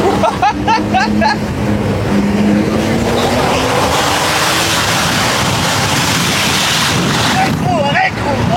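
A Porsche worth about 500,000 euros revs and drives hard, its engine note rising in loud sustained pitch sweeps over broad roar, with excited voices shouting throughout.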